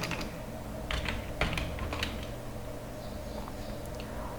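Typing on a computer keyboard during a Linux terminal session, with scattered keystroke clicks over a steady background hum, a few sharper taps standing out near the start and middle.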